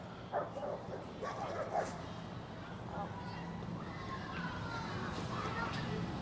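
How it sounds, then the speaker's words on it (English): Dogs bark and yip in short scattered bursts during a heel training session, somewhat distant over a steady background hum. "Dogs."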